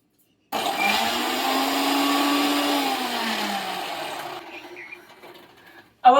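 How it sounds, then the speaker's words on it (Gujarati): A kitchen mixer grinder whirs loudly for about four seconds, its motor pitch rising slightly and then dropping away as it is switched off, heard close in a home with no talking. "મિક્સર ચાલુ કરો છો ને તો?"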